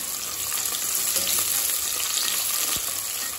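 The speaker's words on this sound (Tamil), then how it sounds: "இந்த வெங்காயம் கலர் பொன்னிறமாகற வரைக்கும் வதக்கிக்கலாம்" Half a kilo of onions sizzle steadily in a pot for chicken biryani, a dense close frying hiss with a brief stir or scrape near the end.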